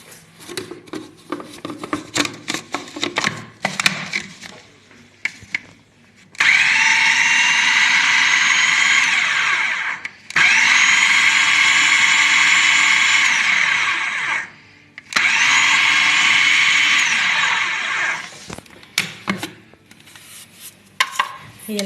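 A food processor grinds falafel dough in three long, steady motor runs of about four seconds each, loud and close. Short bursts of clatter come before them, and there are brief pauses between the runs.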